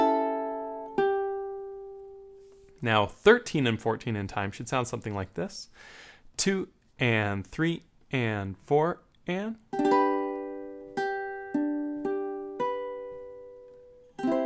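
A ukulele plucks a few ringing notes from a song, then a voice counts the beat aloud. A run of chords and plucked notes follows, each sounding clearly and decaying in a steady rhythm.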